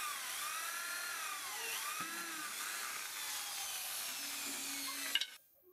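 A high-pitched drill whines continuously into wood, grinding steadily before cutting off abruptly near the end.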